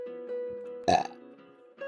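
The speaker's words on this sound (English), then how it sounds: "Sorry, I burp when I'm scared." A single loud, abrupt burp near the middle, close and brief, set against a steady background hum with no talking.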